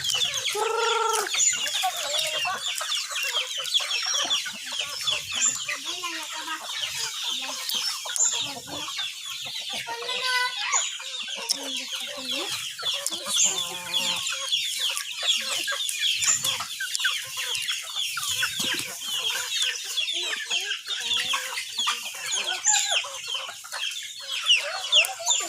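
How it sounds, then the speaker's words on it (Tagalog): Chickens cluck steadily throughout, a dense flock chattering close by with overlapping calls and no pauses. "Damo na kayo manok, Ben."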